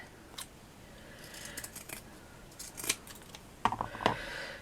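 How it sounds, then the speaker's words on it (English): Scissors snipping paper for handmade craft flowers, a few separate crisp cuts spread over the span, the last two louder and closer. "Let's just cut that down there."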